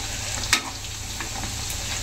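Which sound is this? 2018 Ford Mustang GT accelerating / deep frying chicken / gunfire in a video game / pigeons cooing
deep frying chicken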